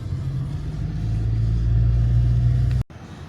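Busy road traffic near a casino in Angeles City, Philippines, with many cars passing close by in a steady, loud rumble of engines that cuts off abruptly near the end.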